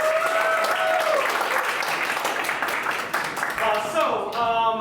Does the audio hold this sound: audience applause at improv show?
yes